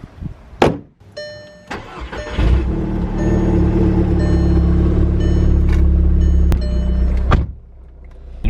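A Volkswagen MK6 Golf R with an oil-burning problem starts up: a few clicks, a brief starter crank, then the engine catches and settles into a loud, steady idle close by before shutting off.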